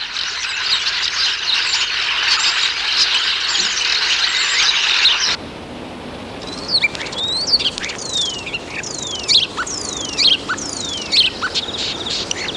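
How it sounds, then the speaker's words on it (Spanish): A flock of common starlings: dense, loud chattering and squealing that carries on continuously, then thins out into a string of separate whistling, sliding calls over a quieter background. "Estas aves son los estorninos"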